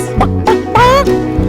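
A singing voice imitates a hen clucking in a children's farm song, giving a few short rising clucks followed by a longer drawn-out one, close and loud over a backing track.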